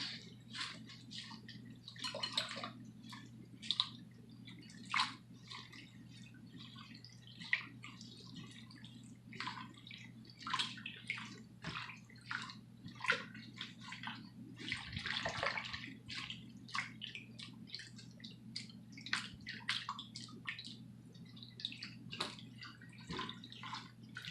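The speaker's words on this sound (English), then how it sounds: "So I'm going to take a handful of leaves, just kind of rinse them off." Tap water runs steadily into a sink as a handful of fresh basil leaves is rinsed by hand, with repeated splashes and drips breaking through a constant low hum.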